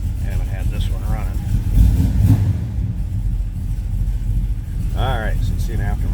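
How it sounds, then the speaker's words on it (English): A 1964 Chevrolet El Camino, cold and not run for a while, cranking over and settling into a steady loud rumbling idle, close by, with someone talking briefly over it. "let's go ahead and start this thing up"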